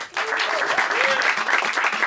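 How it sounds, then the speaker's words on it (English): An audience applauds after a speaker at a sermon slam event in Jerusalem, a steady wash of clapping that rises quickly and holds, with a few voices faintly audible above it. "A round of applause for Danny Cohen"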